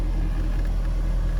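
A 2015 Jaguar F-Type convertible engine idling while parked, a steady low rumble with a constant hum and no revving, heard close and alone.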